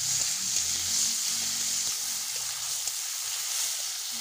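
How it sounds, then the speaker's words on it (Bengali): Tomatoes sautéing in a pan for an egg and new-potato dum curry, a steady close sizzle and hiss running throughout with soft low stirring bumps beneath, no voices. "টমেটো দিয়ে খুব ভালো করে কষে নিচ্ছে একটু"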